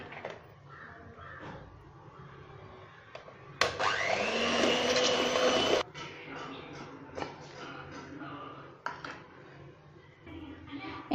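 A mixer beats powdered sugar into cream for a strawberry cake: a steady whirring motor runs loud for about two seconds amid quieter kitchen clatter, with someone talking around it.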